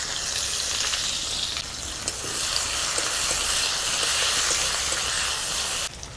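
Chopped onion sizzles steadily in hot mustard oil tempered with dried red chilli, a bay leaf and cumin seeds, a dense close frying hiss with occasional stirring, no voices.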